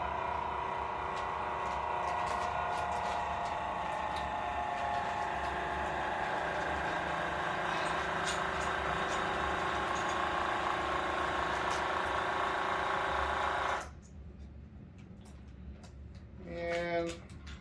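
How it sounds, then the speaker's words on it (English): A vacuum sealer's steady motor hum runs continuously for about fourteen seconds while sealing hops, then cuts off abruptly, leaving quiet room sound with a brief faint noise near the end. "Then we'll hit it with the vacuum sealer here."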